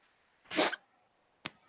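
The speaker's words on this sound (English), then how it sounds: "Catch a sneeze, there you go." A single close sneeze bursts out in a quiet room, followed a moment later by a short, sharp sniff or click.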